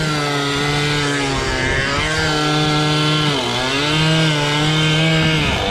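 Chainsaw cutting through wood on a roof-building site, a loud, steady engine whine that rises and dips in pitch as the blade bites, running continuously close by with no talk.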